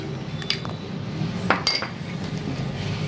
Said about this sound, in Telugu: ముందుగా మనం ఒక బౌల్ తీసుకోవాలి। బౌల్లో స్వీట్ కార్న్ వేసుకుందాము